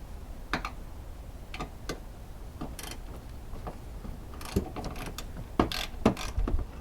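A 10 mm ratchet clicks in short irregular bursts while a nut and bolt come off the torque strut mount of a 2007-2017 GMC Acadia, with close metallic ticking and a few handling knocks.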